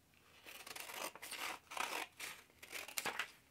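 Scissors snipping through paper sheets for handmade valentines, three or four close crisp cutting bursts with short pauses between them, no talking.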